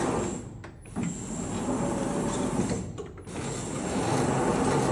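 Seewer Rondo SFA612 computer-controlled dough sheeter running: a steady mechanical whir and rattle of rollers and gears fills the clip at close range, with two brief dips where the motion pauses or shifts.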